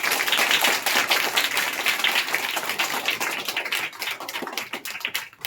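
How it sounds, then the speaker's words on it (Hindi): An audience claps hard and fast in dense applause that fills the room, close and sustained before thinning into scattered claps near the end. "एक बार जोरदार ताली"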